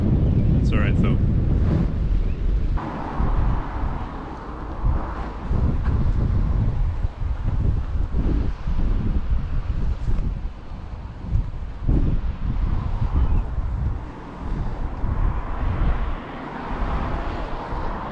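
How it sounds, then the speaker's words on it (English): Strong coastal wind near cliffs in Galway, Ireland, buffets the microphone in loud, gusty rumbles over distant surf, with a person speaking intermittently throughout. "Very windy."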